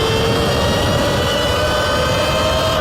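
A Sur-Ron Ultra Bee electric dirt bike at full throttle in Daily mode makes a loud, continuous motor whine with a steady high tone over rushing wind noise, constant throughout.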